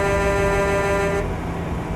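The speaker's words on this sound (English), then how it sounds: "How's the air horn sound in this?" A loud, sustained air horn from a K100 truck in a trucking video game blares for over a second, then cuts off, leaving a rumbling truck engine in the background.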